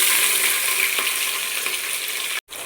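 Onions frying in a pan of hot oil with cloves while cooking a vegetable pulao, a steady close sizzle that cuts out briefly near the end.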